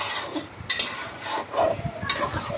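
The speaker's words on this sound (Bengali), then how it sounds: "এই তো কচু দিয়ে দিলাম, দিয়ে এখন নাড়াচাড়া করে দিচ্ছি" A spoon stirs taro and beef in a cooking pot, scraping and rustling in uneven strokes with a soft sizzle underneath. The sound is close and steady, with no voices.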